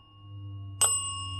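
A small bell gives a single bright ding that rings on briefly over a quiet, low background hum.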